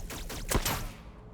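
Rifle fire bursts out in a Warhammer 40,000 battle video game, a T'au army against Blood Angels, a single sharp volley of shots at moderate loudness that quickly fades.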